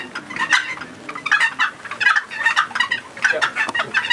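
A wooden turkey box call played by lifting the paddle off the rail, producing rapid, raspy turkey-like yelps and clucks in uneven bursts, loud and close throughout.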